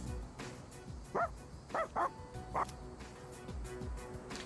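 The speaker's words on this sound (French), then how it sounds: "Kolomaru essaie de raisonner le chien errant" A stray dog in the video game Persona 3 Reload gives several short, sharp barks and yips in quick bursts over the game's ambient background.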